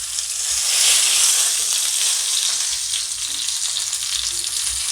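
Bay leaves and cinnamon sizzle steadily in hot oil, a close, continuous bright frying hiss with no talking, part of a rural-style Bengali beef curry with taro root.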